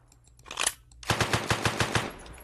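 Automatic gunfire in a video game about robbing a bank: a short opening burst, a pause, then a rapid run of about eight loud, evenly spaced shots.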